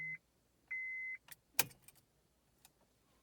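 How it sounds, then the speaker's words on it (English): A car is switched on: two steady electronic chimes sound, followed by a few soft clicks and a brief key jingle, all quiet and close in an otherwise still cabin. "Okay, I've turned on my car."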